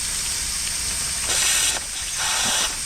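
The injector on a 7¼-inch gauge Hunslet steam locomotive hisses steadily and loudly, with two stronger surges of steam as more is fed in. The hiss stays close and continuous, with no voices.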